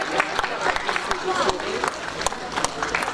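A crowd applauding at a free school bag giveaway in Courbevoie, a steady patter of many hands clapping close by with scattered sharp claps, while voices carry over it.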